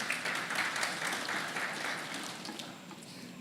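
Steady, dense applause from a congregation fills a church service during an Easter celebration, holding at an even level from start to finish with no voices over it.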